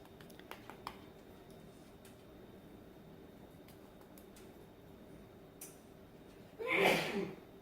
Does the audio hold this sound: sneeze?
yes